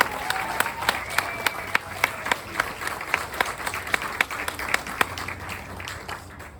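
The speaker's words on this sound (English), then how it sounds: "Susan Rose deserves a great round of applause for her vision" A round of applause for Susan Rose, with a few people clapping in a distinct, fairly regular rhythm of sharp individual claps over a quieter room.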